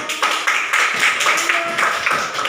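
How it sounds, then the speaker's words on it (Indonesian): Students in a German language classroom clap hands together in a rhythmic burst of distinct, fairly close claps with regular pulses, loud and steady throughout with no talking. "Tepuk tangan."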